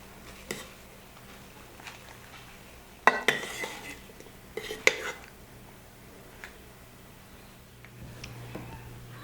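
Hot-processed coconut oil soap spooned into a mold, with scattered spoon clinks and scrapes against the pot, a louder burst of knocks and taps in the middle, then quieter occasional scraping.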